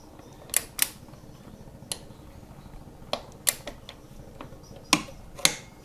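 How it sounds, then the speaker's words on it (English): A torque wrench on a Kawasaki Ninja 1000SX frame slider bolt gives short, crisp clicks at scattered intervals, around eight sharp ticks close by against a quiet background with no talk. "That little click means it's reached 45."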